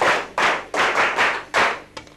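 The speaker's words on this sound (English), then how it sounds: "Clap for him" A classroom of students in Ghana claps for a pupil who answered correctly, a few loud bursts of close, dense clapping separated by short pauses, ending with a single sharp slap.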